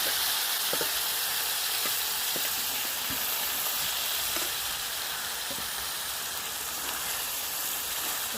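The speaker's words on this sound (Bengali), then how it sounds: "চিকেন মাখানো গ্রেভিটা আমি এর মধ্যে দিয়ে দেবো তেলের মধ্যে।" Chicken chaap gravy with marinated chicken frying in hot oil spiced with cloves, a steady loud sizzle and hiss running throughout, with a few faint knocks of stirring.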